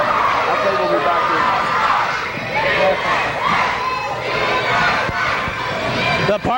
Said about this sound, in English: He's apparently not breaking any hearts tonight because the fans are right behind him.